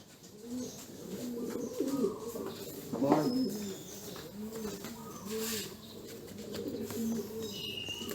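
Pigeons coo repeatedly inside a cage, several soft rolling calls close by, with a voice speaking intermittently under them.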